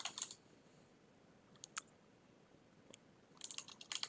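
Keys clack sparsely on a computer keyboard as a router command is typed in a Cisco NAT lab, with small bursts of clicks at the start, in the middle and at the end, quiet and with no talking.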